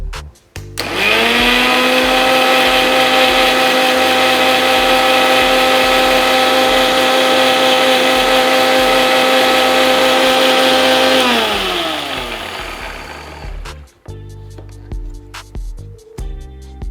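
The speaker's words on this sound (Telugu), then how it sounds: "కొన్ని వాటర్ వేసుకొని మిక్సీ పట్టుకున్నాను" A kitchen mixer grinder blends a paste with added water, a loud steady whine with strong motor harmonics running nearly eleven seconds, then winding down and stopping, followed by a few clatters and handling noises.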